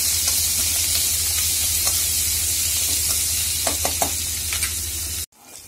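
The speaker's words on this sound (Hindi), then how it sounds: "सिर्फ ऑनियन डालूंगी और इसको अच्छे से ब्राउन होने दूंगी" Onions frying and browning in a pan for moong dal amti give a steady, close sizzle with light stirring scrapes, then the sizzle cuts off abruptly near the end.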